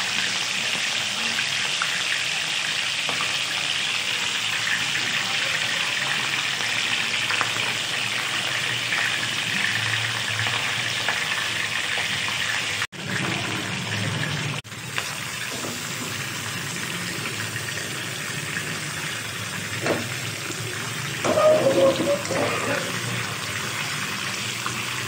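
Thin pieces of fish frying on medium heat in a home kitchen for a fish curry: a steady, hissing sizzle runs throughout, with brief knocks and quieter clatter partway through and a spoken voice at times.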